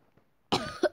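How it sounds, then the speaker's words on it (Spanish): A sick young girl gives a single close, sharp cough that breaks into two quick bursts after a moment of near silence. "Si ven por qué estoy tosiendo un poquito"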